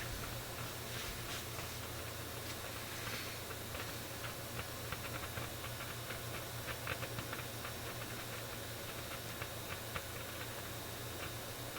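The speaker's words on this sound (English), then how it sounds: "Certainly don't like that crackling." Crackling and faint ticking static from a 1952 GM Model 510 tube car radio at first power-up, a steady hiss over low hum with scattered small pops throughout.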